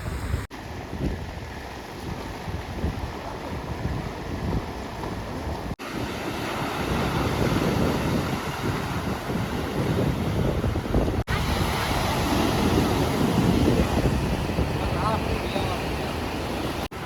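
Steady roar of surf and wind on Nagoa Beach in Diu, with waves washing in continuously and wind buffeting the microphone.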